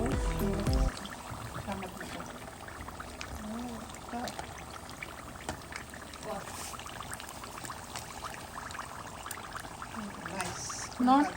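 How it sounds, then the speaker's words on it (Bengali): Crab rangoons frying in hot oil, a steady soft sizzle and bubbling crackle that runs throughout at low level, with faint voices talking over it. "তেলটা গরম হয়ে আসলে এগুলো একটু ভেজে নিচ্ছে আমার মেয়ে, সুন্দর করে নাইস করে ভাজছে"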